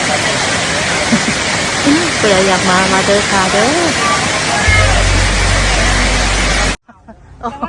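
Loud, steady rush of flowing water like a waterfall, with someone talking over it and other voices in the background before it cuts off.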